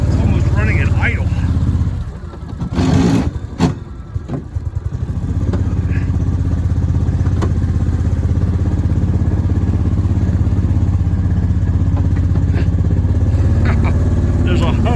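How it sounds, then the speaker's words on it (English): An engine runs steadily near idle, failing to wind out or rev up under load, with a continuous low drone through the whole stretch and some clatter early on. A person talks over it. "I don't know why this engine's not winding out. It's just like it's almost running at idle."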